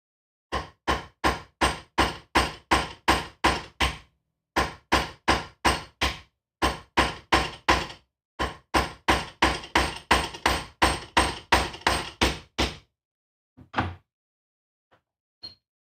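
A hammer strikes rivets during the assembly of a leather armor cuirass. Sharp, close knocks come in quick, even bursts of about ten blows each, with short pauses between groups, then a few scattered taps at the end.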